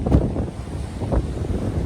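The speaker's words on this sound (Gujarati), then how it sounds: "અત્યારે ફૂલ પવન છે" Strong seaside wind gusts batter the microphone in a low, rumbling roar, with faint surf-like rushing beneath, continuous and close.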